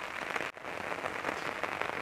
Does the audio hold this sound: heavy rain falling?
yes